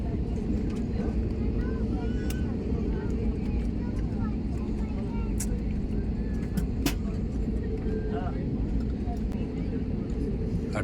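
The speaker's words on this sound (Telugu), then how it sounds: "ఫ్లైట్ మూవ్ అయ్యిందండి" A passenger airplane taxis toward the runway, its engines making a steady low rumble that fills the whole stretch. Occasional sharp clicks and a person speaking can be heard over it from inside the cabin.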